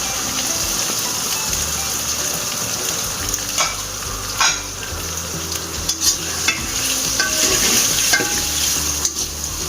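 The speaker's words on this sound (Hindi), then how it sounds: "अब हम इसमें प्याज डालेंगे।" Onions sizzle and fry with garlic and ginger in a hot pan for chicken pulao, a steady loud crackling hiss with occasional stirring scrapes, close and without talk.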